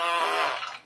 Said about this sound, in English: random farts